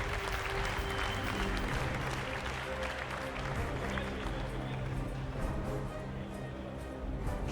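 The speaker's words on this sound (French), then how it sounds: "On peut les applaudir." Applause from spectators at a Vosges cattle show in France, dense and continuous, mixed with low steady background sounds and crowd murmur throughout.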